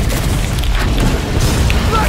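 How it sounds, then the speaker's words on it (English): A flash bomb in the video game Killing Floor 2 goes off as a loud, dense boom that rumbles through the whole moment, with a voice mixed into the game sound. "Flash bomb!"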